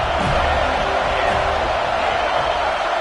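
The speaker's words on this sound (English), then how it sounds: "Man, this crowd really affecting the football game." Home crowd at a football game roaring as a steady, dense wall of noise, loud and continuous throughout with no clear breaks or swells.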